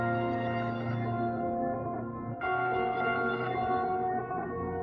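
A synth chord progression layered with a tenatology one-shot plays as a dense, bright sustained pad, shifting to a new chord midway with a sharper attack, continuous and loud with no voices.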